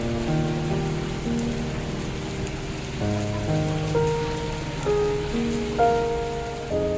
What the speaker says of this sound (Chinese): 不巧今天是个下雨的天气